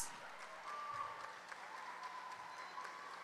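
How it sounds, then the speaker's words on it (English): Audience applause for second-place winners at a prize presentation, a steady wash of clapping at moderate, somewhat distant level, with a faint tone running beneath it. "give them a big round of applause."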